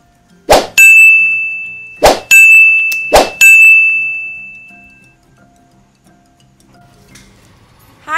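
Notification bell sound effect: three bright, ringing dings in quick succession, each with a sustained shimmering tone, followed by quiet room ambience and a faint voice at the end.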